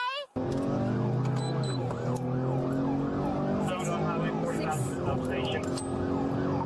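A police car siren wails loudly and close, rising and falling continuously over engine and road noise, with a voice faintly audible underneath.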